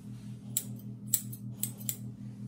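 Grooming scissors trimming a golden retriever's leg fur, giving four crisp quiet snips spaced about half a second apart over a low steady background hum.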